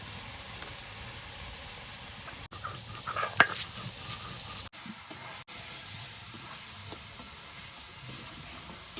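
Ground cumin and coriander powder frying in a pan with a splash of water, for dhaba-style chicken ghugni; a steady close sizzle and hiss with a few brief stirring clatters, no voices.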